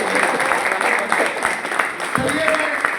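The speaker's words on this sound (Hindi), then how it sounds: "जोरदार तालियां नासिक से" Crowd clapping loudly and continuously at a leaders' summit in Manali, with a few voices and shouts mixed in over the applause.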